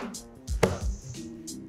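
Metal pie pans dropped onto the ground land with one sharp, bright clatter and a short rattle, close to the listener, followed by brief voices.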